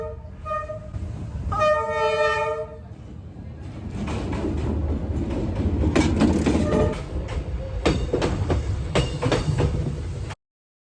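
A train rolls along tracks through a narrow Hanoi street, opening with a loud horn blast, then rumbling and clattering wheels and rattling cars close by for several seconds before cutting off.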